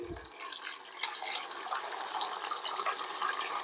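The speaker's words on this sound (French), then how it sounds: "Et je vais verser dedans le petit lait et le cahier" Whey poured from curdled milk during homemade tomme cheesemaking, a close, steady trickling splash of liquid running for several seconds with small gurgles, no talking.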